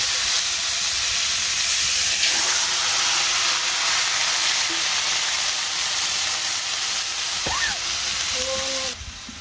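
Hilsa fish frying in hot oil, a steady close hiss and sizzle running without a break, with a brief faint tone near the end before the sound shifts abruptly.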